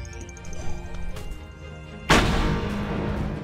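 A massive cannon in a Star Wars VR game lets off one sudden, loud blast that roars on as a dense, sustained rumble; quieter mechanical game sounds come before it.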